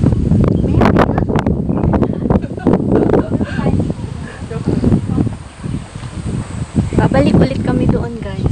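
Gusty wind buffets the microphone in loud rushing bursts on a mountain hiking trail at Beitou, Taiwan, with people talking now and then underneath.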